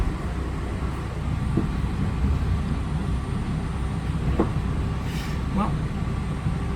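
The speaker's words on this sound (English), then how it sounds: "See a big train over on that side." A PATCO High Speedline train passes near Collingswood station, a low continuous rail rumble with faint clanks and squeals, while people chat nearby.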